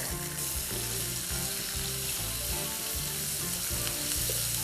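Sliced onion sizzling in a pan with roasting spices over medium flame, a dense constant frying hiss with stirring under a steady tonal background, no voices.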